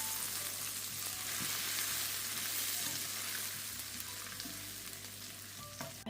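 Butter melting into caramelized sugar in a hot pan, giving a steady, dense sizzle with faint scraping from stirring, close and even throughout, with no voices.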